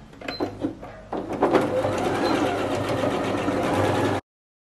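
A sewing machine stitching a cowl neck slip dress runs in a steady, close mechanical whir for several seconds after a few short starts, then stops abruptly.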